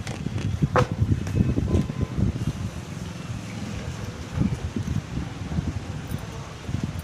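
Strong wind buffets and roars across the microphone in uneven gusts during rainy weather, with rustling of sugarcane underneath and no voices.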